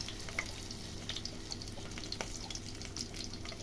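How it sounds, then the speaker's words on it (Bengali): Battered cauliflower florets frying in hot oil in a Bengali home kitchen, a steady soft crackle with scattered sharper pops, quiet and even throughout, no voices. "তাহলে ব্যাটারে মাখিয়ে মাখিয়ে আমি ফুলকপিগুলো তেলে ছেড়ে দিচ্ছি।"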